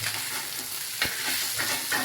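Stuffed bombil fish sizzle steadily on a hot tawa, with a couple of soft scraping knocks as a spatula turns the fish over; close and continuous.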